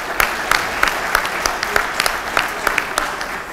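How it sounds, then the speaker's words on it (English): Audience at a legislative fisheries hearing applauds the City of Santa Rosa, a steady round of many hands clapping in a room, moderately loud and continuous for a few seconds. "Let's give them a round of applause."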